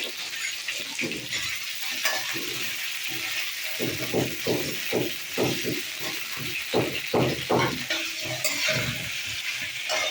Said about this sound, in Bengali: আলুটাকে একটু ভেজে নেব, তারপরে ফুলকপিটা ভাজবো